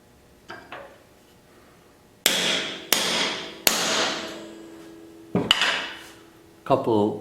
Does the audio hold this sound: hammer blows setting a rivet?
yes